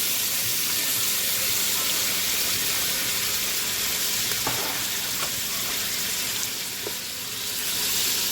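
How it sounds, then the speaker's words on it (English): Onions, tomatoes and sweet pepper fry in a pan on a stovetop, giving a steady, close sizzle that holds evenly throughout with a few faint clicks and stirs, no voices over it. "I'm going to let that sit so it can fry and cook also."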